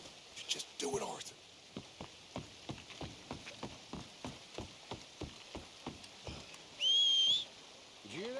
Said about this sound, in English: Did someone whistle out here?